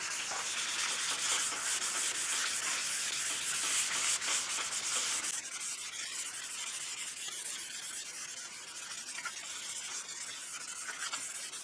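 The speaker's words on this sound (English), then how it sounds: "then we'll go over it again with the block sander" A worn sheet of 180-grit paper on a block sander rubs back and forth over body filler and guide coat on a 1969 Mustang fender, giving steady, close scratchy strokes that soften slightly partway through, with no talking.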